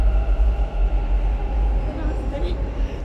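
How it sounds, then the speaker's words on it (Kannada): Low, steady rumble of a moving metro train carrying a quiz-show crew, with people talking over the continuous rolling drone. "ರೈಲು ಹತ್ತೇ ಬಿಡೋಣ, ಬನ್ನಿ"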